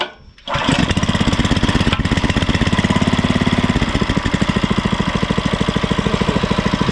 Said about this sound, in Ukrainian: двигун працює вроді би тихенько, мені нравиться